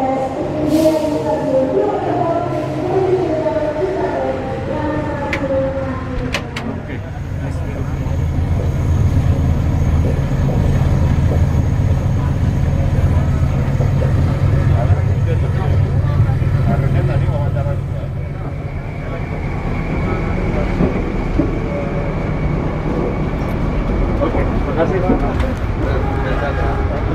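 The Baturraden Express train departs Purwokerto station, rumbling and rolling past nearby with a steady mechanical roar, while people talk and a departure announcement plays in the background.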